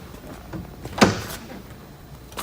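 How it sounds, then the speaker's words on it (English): The rear load door of a 2018 Platinum Phoenix hearse built on a Cadillac XTS sedan opens with a single short clunk and release, followed by a brief soft rustle in otherwise quiet surroundings. "As we open up the rear load door, you'll notice how wide of an opening it is"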